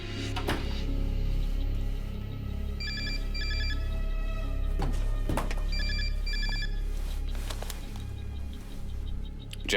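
A telephone rings in short repeated bursts of two trills each, heard at moderate volume over a low background rumble with occasional knocks and clicks.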